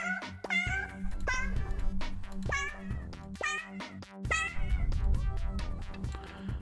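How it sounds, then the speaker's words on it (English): A house cat meows again and again, loud and close, a string of drawn-out cries with short gaps, over a game's background music. "I have a cat behind me meowing."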